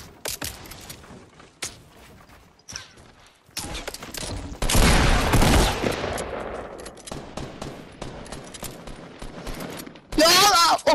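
Video game gunfire: bursts of rapid automatic shots and single cracks, loud and close, with a dense sustained barrage in the middle and another sharp burst at the end, amid brief gaps.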